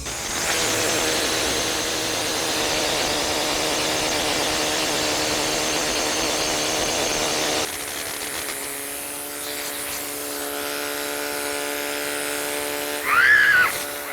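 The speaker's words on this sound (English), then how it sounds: "We start with the bush hammer, which creates smooth surfaces like I saw on the obelisk and the Ozymandias." A powered bush hammer dresses a stone surface at an ancient Egyptian monument site, giving a loud continuous buzzing rattle that drops to a lighter whine partway through, ending with a short burst.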